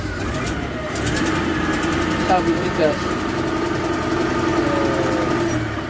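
A heavy excavator's engine runs under throttle with a steady, loud mid-pitched rumble and a few brief rises throughout.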